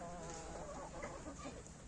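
Chickens in a muddy farm coop cluck softly and intermittently at a distance, faint against a low background hum with a light insect-like buzz.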